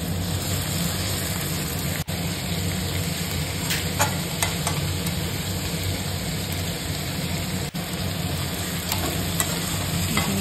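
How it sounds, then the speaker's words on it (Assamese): Chicken pieces fry in a pan with ginger garlic paste for a masala gravy, giving an even, unbroken sizzle with faint stirring and a steady background hum. "এইখিনি এতিয়া খুব ধুনীয়া কৰি ভাজি ল'ম।"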